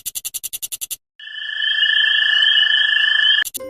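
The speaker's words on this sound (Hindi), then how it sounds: "ग्रास हॉपर को हिंदी में कहते हैं टिड्डा" A grasshopper chirping: a quick run of sharp rhythmic clicks, then a long, steady, high buzzing trill, and finally a few short clicks, all close and clear.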